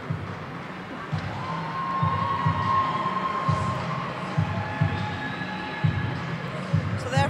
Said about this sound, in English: South Africa have the home crowd cheering them on